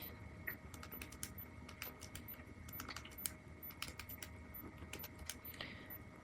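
Data being keyed into a calculator, quiet rapid button clicks tapping in irregular bursts over a soft steady background hum.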